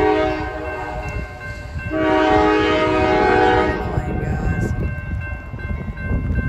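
A heavy loaded coal freight train, Norfolk Southern, rumbles past close by in Holland, Michigan, at a crossing with a broken gate, its horn sounding in long tones over the low roar and rattle of wagons.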